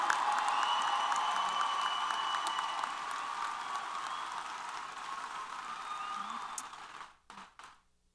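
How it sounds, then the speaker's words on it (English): Sustained applause from a large crowd at a university commencement as new alumni are honored, a dense steady roar of clapping with some cheering, fading out into a few scattered last claps. "let's give these new alumni a round of applause"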